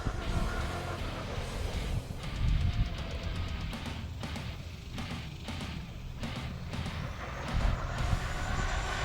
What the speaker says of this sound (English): Full throttle all the way down.